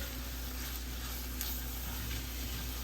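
A queso mixture heating in a pan while being stirred for Mexican pizzas, a faint constant hiss with a low hum beneath and occasional light scrapes.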